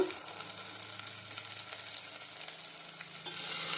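A spice mixture with garam masala powder fries gently in a pan for egg biryani while being stirred, a soft continuous sizzle with light scraping.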